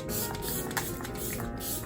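Setting spray misted onto a face, a continuous close, loud hissing spray lasting the full moment with no talk.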